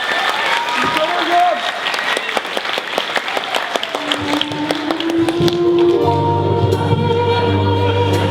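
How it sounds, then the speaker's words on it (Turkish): Applause at a poetry reading event fills the space, a dense crowd of clapping hands with sharp individual claps, while a voice and a sustained musical tone come in over the clapping later. "Alkışlarım."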